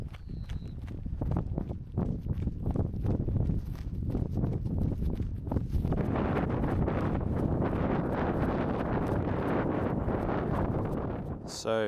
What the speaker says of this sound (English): It's a little too windy for my liking.